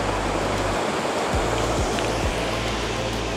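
A small tributary stream of the Ammer, running high in the Ammergau Alps, rushes loudly and steadily as a dense broadband roar of flowing water that fills the whole clip without pause, close to the listener and alone.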